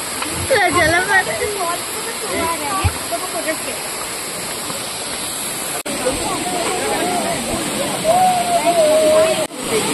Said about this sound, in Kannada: ವಾಟರ್ ಫಾಲ್ ಕಾಣ್ತಾ ಇದೆ